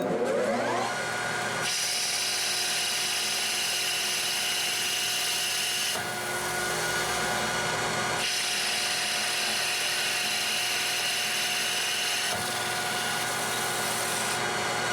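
A metal lathe takes an aggressive cut on a custom kegerator beer tap handle, giving off a steady high whine and gritty cutting noise that stops briefly twice and starts again, loud and close with no talking.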